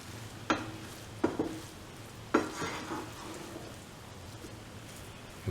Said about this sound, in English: Turn the rice over and mix the brinjal and the ingredients in the rice.